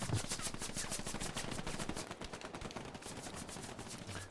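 Rapid automatic gunfire in the World War II shooter Hell Let Loose, dense bursts of machine-gun fire rattling continuously at close range, loud and steady with no talking.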